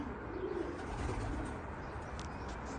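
Pigeons coo in low, soft, throaty calls inside a coop, with a steady mix of cooing and faint rustling from several birds close by.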